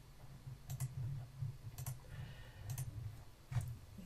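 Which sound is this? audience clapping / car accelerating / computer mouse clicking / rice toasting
computer mouse clicking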